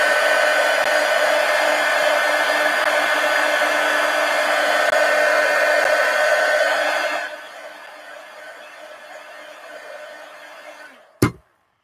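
A hair dryer runs steadily to dry ink on a journal page, a loud continuous whir that drops to a lower setting partway through, then cuts off with a sharp click at the end.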